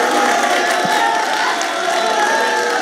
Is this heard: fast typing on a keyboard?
no